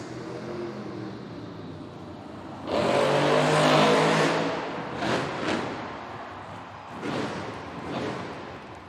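Grave Digger monster truck engine roaring during a freestyle stunt at a Monster Jam stadium show, a loud surge of revving that swells, then falls back into shorter bursts, with crowd and arena noise around it.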